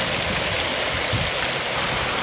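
Heavy rain pouring down outdoors in a hilly countryside setting, a dense, continuous, loud hiss of water with no gaps and no talking.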